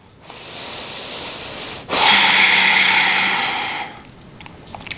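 During a vinyasa yoga flow, a long deep inhale is followed by a louder, steady exhale lasting about two seconds, close and breathy, with no talk.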